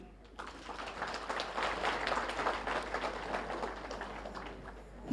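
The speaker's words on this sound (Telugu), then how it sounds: "గట్టిగా చప్పట్లు" Morning-session audience at a meditation and youth gathering claps together, a soft, steady wash of applause that swells and holds for several seconds, heard from a distance in a large hall.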